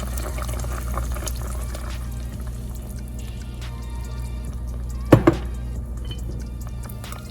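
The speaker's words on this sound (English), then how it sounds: "I'm gonna go ahead and pour all that in there." Whisked liquid for a peach cobbler pours steadily into a dish over a constant low background hum, with a couple of brief clinks near the end.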